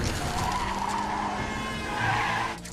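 A cartoon car skids with a loud, sustained tire squeal that holds steady for a couple of seconds before cutting off, with no talk over it.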